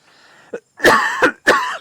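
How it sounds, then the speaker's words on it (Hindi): A few short coughs and throat clears in a row, close and fairly loud, with brief pauses between them. "खांसी आने पे थोड़ी सी माफ़ी चाहूँगा मैं"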